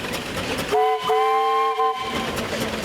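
A steam traction engine at a steam show blows a clear harmonic whistle in two close blasts, loud and near, standing out over the surrounding outdoor noise.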